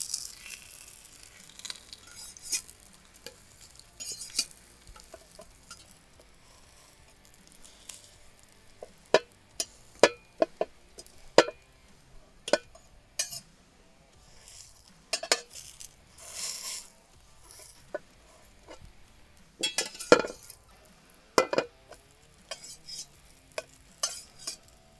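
Flatbread dough frying in hot oil or fat, heard as quiet, intermittent sizzling crackles and spatters with scattered sharper pops and a few clinks of utensils, and stretches of near silence between bursts.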